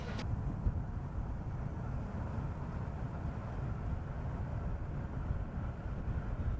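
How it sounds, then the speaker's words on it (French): Strong wind buffeting the microphone on open countryside during the Paris-Chauny cycling race, a continuous low roaring rumble that stays steady and loud. "sont exposés au vent violent dans cette campagne dégagée"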